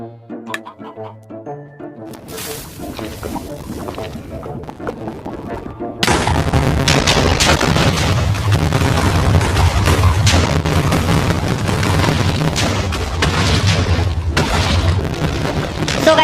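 Stacks of TNT detonate in Minecraft's Nether while mining for ancient debris, heard as a dense, continuous barrage of overlapping booms and blasts following a quieter stretch at the start.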